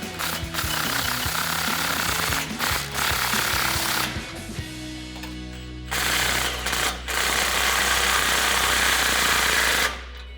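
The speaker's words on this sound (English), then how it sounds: "I'm using a long extension with a swivel adapter and a 15mm socket to get to" Flowmaster FlowFX exhaust clamps on a 2022-2024 Toyota Tundra are run down with a 15mm socket on a long extension and swivel adapter, giving loud close rattling bursts of hammering with short pauses between them.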